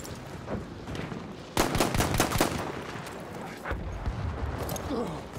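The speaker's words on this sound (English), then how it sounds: "Someone's shooting me." Gunfire in the Battlefield 1 beta multiplayer, a sharp burst of several loud shots near the start followed by scattered distant shots and explosions under faint background voices.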